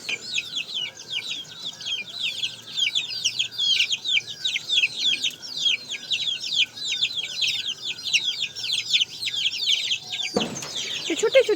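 A small flock of chickens keeps up dense, rapid clucking and high peeping calls throughout, fairly loud and close, with a brief thump near the end.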